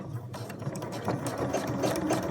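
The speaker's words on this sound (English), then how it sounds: "I'm just going to do a wide zigzag forwards and backwards at the end of this piece of elastic." A sewing machine runs a wide zigzag stitch forwards and backwards over the end of a piece of elastic on a scrubs hat, a steady close mechanical whirring with a fast rhythmic clatter throughout.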